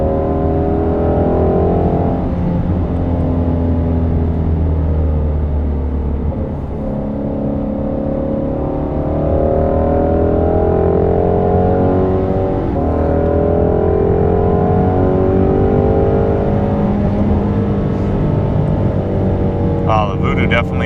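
A Ford Shelby GT350's Voodoo engine drones steadily while driving on a backroad, its revs climbing and falling in long sweeps, heard close from inside the car.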